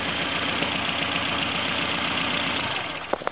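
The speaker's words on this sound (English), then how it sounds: "See there, running alright, smooth, healthy, you can see it's on all four cylinders," A Subaru 1800 engine idles smoothly on all four cylinders with a close, steady, even rumble, and a couple of small knocks come near the end.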